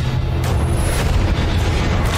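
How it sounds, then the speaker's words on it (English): A heavy gun boom from the film Batman & Robin, a dense, loud rumbling blast with a sustained low roar that fills the whole short stretch. "Fire the gun!"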